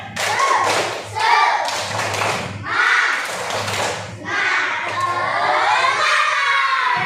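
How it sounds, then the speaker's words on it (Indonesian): A classroom of fourth-grade children performing a rhythmic 'tepuk semangat' clapping cheer, bursts of unison claps and thumps alternating with loud shouted chanting voices in repeated phrases, close and energetic. "Mari sama-sama kita tepuk semangat."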